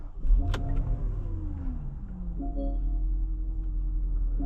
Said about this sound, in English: today we're going for a drive in this 2012 Porsche Cayenne Turbo